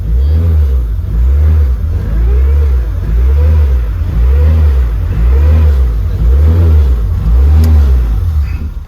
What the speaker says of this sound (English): the diff was making like a noise